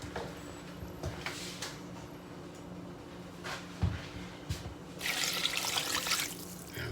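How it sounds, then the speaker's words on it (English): Water is poured into a pot of chicken and green chile posole, a running, splashing flow that grows louder toward the end over faint kitchen background, with no one speaking. "And then we're going to finish it off with 4 cups of water."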